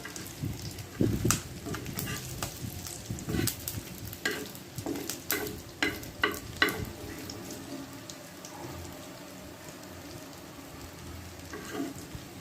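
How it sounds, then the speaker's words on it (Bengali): Egg potato cutlets frying in hot oil, a soft continuous sizzle punctuated by repeated scraping and clattering as pieces are turned, close by, with a brief running-water sound. "এখন শুধু এই তিনটাই ভাজবো"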